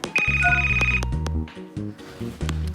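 A cartoonish school bell rings twice in a Toca Boca game scene, bright electronic chiming bursts over low tones, loud and close with short pauses between rings.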